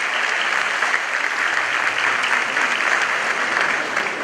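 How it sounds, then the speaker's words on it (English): A hall full of people at a Supreme Court 150th anniversary ceremony applauds justices of the Court of Appeal as they stand, with steady, dense clapping sustained at an even level throughout. "may you rise so that we give you a round of applause"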